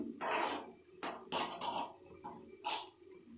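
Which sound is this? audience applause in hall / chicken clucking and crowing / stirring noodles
stirring noodles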